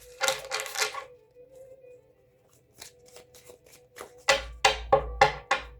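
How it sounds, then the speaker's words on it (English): A deck of cards is shuffled for a reading in several bursts of riffling and snapping, with quieter handling between them and a quick run of crisp riffles near the end, heard alone. "I'm going to shuffle one more time."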